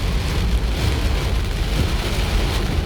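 Heavy rain pours steadily during a storm in Wiang Pa Pao, Chiang Rai, Thailand, a dense, unbroken roar of close, constant downpour with no voices.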